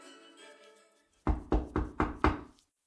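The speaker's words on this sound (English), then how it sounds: "Did you hear that, Santa? I heard a knock." Five firm, evenly spaced knocks land on a door, close and clear, after a quiet stretch of soft background music.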